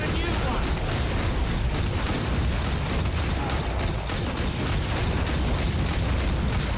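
Dense, continuous barrage of booming blasts and bursts from a husk cannon in Killing Floor 2, loud and relentless throughout, with faint game noise mixed underneath.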